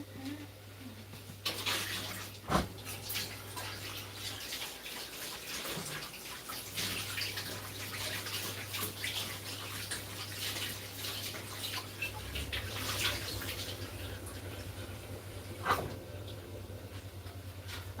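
Water running steadily into a cooking pot in a home kitchen, a continuous close splashing flow with a few clanks and knocks along the way.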